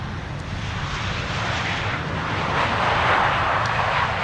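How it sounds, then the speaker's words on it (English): A KLM Boeing 737-800 arriving from Brussels at Amsterdam Schiphol roars steadily overhead as a broad, loud jet rumble that swells slightly toward the end, with no voices. "This is KLM flight 1704 arriving from Brussels. It's a 737-800."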